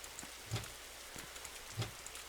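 Rain falls steadily in a Roblox city map on a dark early-fall night, a soft continuous hiss broken by a few louder drips and taps.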